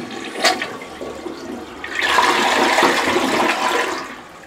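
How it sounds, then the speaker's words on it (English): A toilet flushes after being cleared with a drain snake. A sharp clunk of the handle comes first, then a loud swirling rush of water that builds and holds close to the bowl. "See if we get a good flush now."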